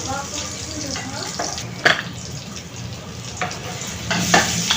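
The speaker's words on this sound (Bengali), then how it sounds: "পেঁয়াজটাকে আমি ভেজে নিলাম" Chopped onion and garlic with a broken dried chili fry in hot oil, crackling steadily at close range with occasional sharper clinks and scrapes from stirring.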